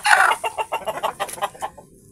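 A Rhode Island Red hen gives a rapid series of short, close clucks, about a dozen in quick rhythm that fade out after two seconds.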